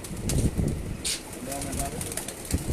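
Pigeons at a rooftop loft during a pigeon-racing sports event in Sheikhupura, cooing softly with a few brief wing flaps over a steady background of voices and outdoor noise.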